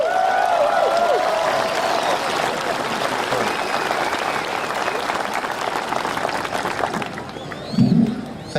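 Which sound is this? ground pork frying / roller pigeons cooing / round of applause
round of applause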